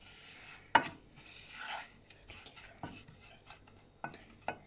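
Grated coconut stirred with ghee in a pan, quiet scraping and rubbing of a spoon against the pan with a few sharper clinks and knocks scattered irregularly, soft and close.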